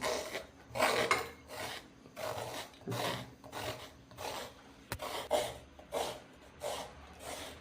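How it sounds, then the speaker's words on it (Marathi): A pumpkin being peeled in a home kitchen, making a steady run of about a dozen dry rasping strokes, close and fairly quiet, with no talking. "आता आपल्याला हा जो आपण भोपळा घेतला होता त्याला थोडं सिलून घ्यायचं"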